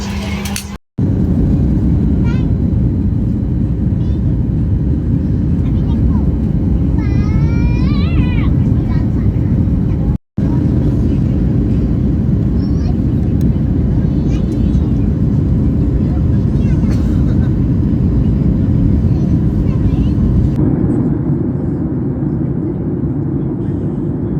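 A passenger flight landing in India fills the cabin with a loud, steady roar of engine and airflow that holds through most of the stretch, briefly cut twice, then eases and thins near the end.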